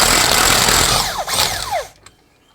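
A power tool whirs loudly against a nut on a Mercedes Sprinter during transmission work, its pitch sweeping up and down in a few rising whines before cutting off abruptly into near quiet.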